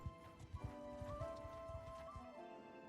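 Horse hooves clip-clop in the Mount & Blade video game, a steady, fairly close run of hoofbeats with a neigh or whinny partway through, over a tonal game music bed.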